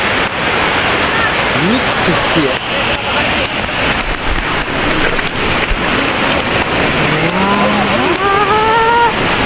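Cold water pours steadily at Kalu waterfall in the Adrai jungle, a loud constant rush of falling water close by, with people talking over it and a voice rising near the end.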